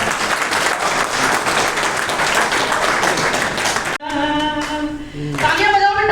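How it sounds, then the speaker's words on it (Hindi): An audience at a poetry reading breaks into loud, dense applause for about four seconds before it cuts off abruptly and tonal, harmonic sound takes over. "तालियां बजाओ बेटा"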